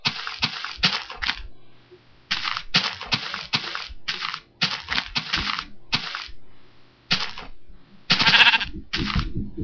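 Repeated sheep bleats from the Minecraft video game, a series of short bursts with brief gaps, loud and close, with no talking over them.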